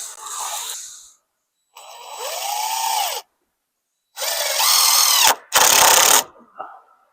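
Cordless power drill driving screws into a roof beam while framing a barn roof in snowy weather, several separate whirring bursts of rising and falling pitch with short pauses between, close and loud.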